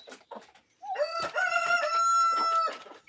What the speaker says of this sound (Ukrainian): Як співають півні зранку.